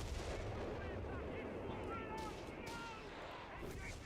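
Artillery fire and gunfire rumble from the video game Company of Heroes 3, a dense, continuous battle din under steady commentary from a tournament caster.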